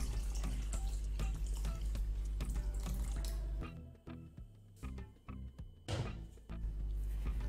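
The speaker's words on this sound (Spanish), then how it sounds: "Vamos a poner en una olla unas patatas y una zanahoria y las vamos a cubrir bien de agua." A kitchen tap fills a cooking pot of potatoes and a carrot with water in a loud, steady rush that later breaks into intermittent splashes and gurgles as the flow is adjusted.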